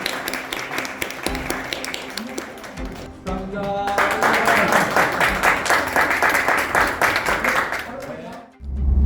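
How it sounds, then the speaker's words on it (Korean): A crowd applauds at an awards ceremony with steady clapping that swells louder midway, carrying on for several seconds. "축하의 박수 부탁드립니다."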